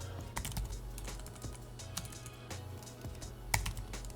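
Typing on a computer keyboard, with irregular clusters of close, crisp key clicks and a few louder strikes against a low steady background hum.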